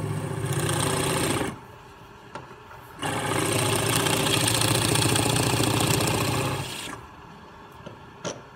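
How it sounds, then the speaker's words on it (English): A plug cutter boring wooden plugs out of recycled wood offcuts: a steady whirring, grinding motor drone in a short first run, then a longer second run, with quiet gaps and small clicks between. "I'm going to cut the plugs."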